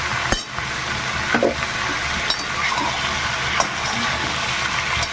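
Red amaranth greens and pumpkin sautéing in a pan, a steady close sizzle and frying hiss with a few brief stirring scrapes, no talking.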